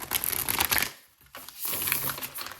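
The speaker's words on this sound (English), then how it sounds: "so let's just shuffle." A deck of tarot cards is shuffled close up in a crisp riffling burst, a short pause, then a second longer stretch of flapping, rustling card noise, with no talking.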